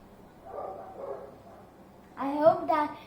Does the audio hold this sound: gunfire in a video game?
no